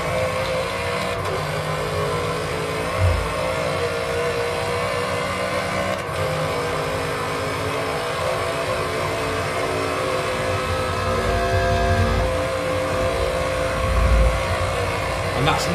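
A 1000bhp Volkswagen Beetle engine revs and drones continuously around the Nurburgring in a racing video game, rising and falling in pitch as it accelerates, with someone talking over it.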